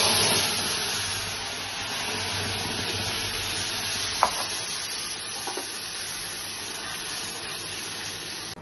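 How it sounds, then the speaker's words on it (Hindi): Cumin and masala spices frying in hot oil, a continuous even sizzle with a faint stirring sound and a couple of brief clicks, no voices. "और अब तलेंगे मसाला"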